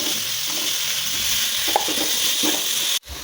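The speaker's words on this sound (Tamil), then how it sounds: "வெங்காயம் தக்காளி பாருங்க நல்லா வதங்கிடுச்சு" Onions and tomatoes sauté in a pan, a steady close hiss of frying with a few soft stirring scrapes before an abrupt drop near the end.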